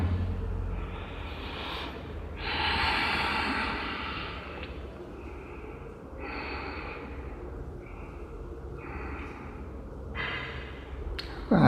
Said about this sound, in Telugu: ఇక్కడ సాధారణ శ్వాస తీసుకుంటూ వదులుతూ ఉండాలి